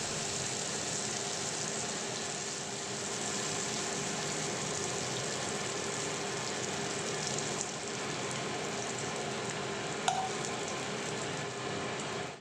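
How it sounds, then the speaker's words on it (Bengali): Tofu frying in oil in a pan over a medium gas flame, a steady close sizzle that continues without a break, with no talking. "মিডিয়াম ফ্লেমে ধীরে ধীরে আমি টোফুগুলো ভেজে নিচ্ছি"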